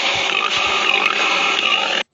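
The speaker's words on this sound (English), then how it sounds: "Pig. Pig." A domestic pig oinks and grunts in a loud, dense run of calls lasting about two seconds, close up with no talk over it.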